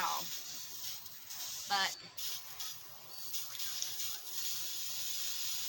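A spray paint can hisses in broad, uneven bursts while a shoe rack is painted, with a brief voice partway through.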